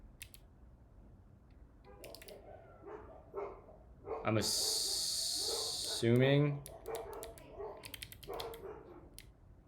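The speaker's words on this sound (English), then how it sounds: "Why are the dogs barking?" Dogs bark indoors several times, the barks sitting under a man's speech and keyboard typing, with a loud burst of noise partway through.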